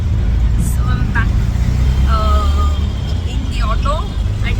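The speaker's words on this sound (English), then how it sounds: "So yeah, I'm in an auto" Inside an auto rickshaw moving through traffic: a loud, steady low engine and road rumble, with horn toots and engine whines from nearby vehicles over the drone.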